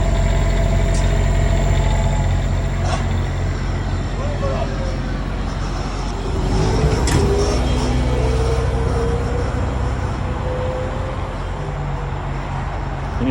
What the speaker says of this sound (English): There's your Onan generator. Real quiet.